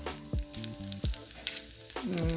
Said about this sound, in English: It tastes really good when you fry the red chilies in the oil.